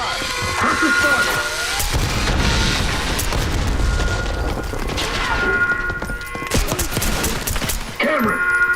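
Call of Duty: Black Ops 6 firefight with bursts of rapid gunfire, booming impacts and crashes in a dense, loud exchange, while voices shout over the shooting.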